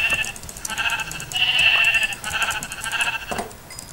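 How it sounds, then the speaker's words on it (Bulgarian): Sheep in the video game Minecraft bleat in a run of short, loud, nasal calls, several in a row with brief gaps between them, clear and close with nothing else behind them. "О, не, овце, те ще ни помогнат."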